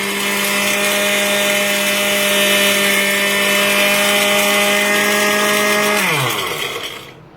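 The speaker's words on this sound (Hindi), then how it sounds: "इसको ग्राइंड करते हैं" An electric kitchen grinder whirs loudly and steadily for about six seconds while grinding ingredients for a sweet bread pudding, then spins down with a falling pitch and stops.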